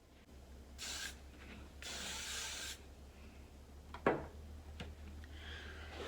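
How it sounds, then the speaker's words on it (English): Two short hissing bursts of spray from an aerosol can, close up, followed by faint rustling and a light tap. "I'll lightly spray it."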